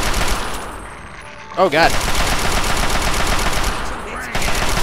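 Automatic gunfire rattles through a modded PC run of Fallout 3, dense and loud across the whole stretch, with a man briefly exclaiming midway as a short burst of voice cuts in.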